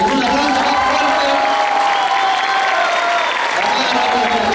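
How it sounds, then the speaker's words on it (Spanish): Loud, dense applause from a crowd at a folk ballet performance, continuous clapping with some cheering, while a voice on a public address system talks over it. "Un aplauso más fuerte"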